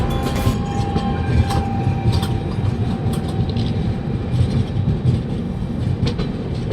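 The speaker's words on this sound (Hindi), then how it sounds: "तो हमारी ट्रेन तो दोस्तों मेन लाइन पे आ चुकी है" The Vasco Jasidih Express rumbles steadily as it crosses from the loop line onto the main line near Hubballi, with heavy rolling noise, clattering wheels and faint squeals, close and continuous, with no talk over it.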